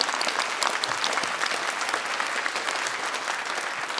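Audience applauding at a Class of 2021 commencement ceremony, a steady, dense round of clapping from a large crowd, sustained evenly throughout.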